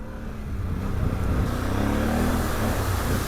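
A 2021 Can-Am Outlander 850 XMR ATV drives off-road, its engine a close, rising rumble that builds and holds a steady growl, with no talk over it.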